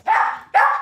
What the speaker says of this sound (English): he'll bark in the front room because he's heard a bang